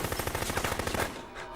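Automatic gunfire in Dead Rising Remastered during a boss fight, a rapid close burst of evenly spaced shots lasting about a second before cutting off.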